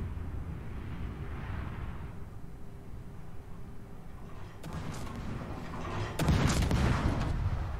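Destroyer deck guns firing in a naval video game, a low rumbling barrage building to a loud burst of cannon blasts near the end, with dense booming and no talk.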